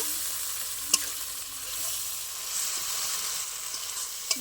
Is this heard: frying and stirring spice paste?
yes